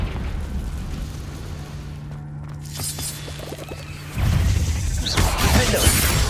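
A Confringo spell blast in Hogwarts Legacy on PS5: game sound rumbles low, then a loud, broad explosive burst erupts about two-thirds through and keeps roaring to the end.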